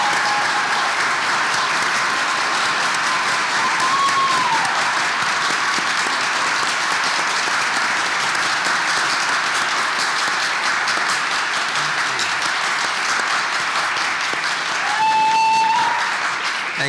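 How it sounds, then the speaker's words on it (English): Sustained, full applause from a large crowd greets graduates at a Stetson University College of Law celebration, continuing evenly and loudly for a long stretch with a couple of faint whistles. "Graduates, please stand one more time so that we can give you a great round of applause."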